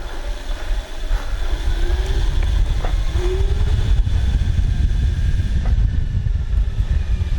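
A 3D printed electric go kart pulls away under hard acceleration, giving a steady broadband rumble of motor and wheels on pavement with a faint rising whine. The sound stays loud and even throughout, and no one speaks.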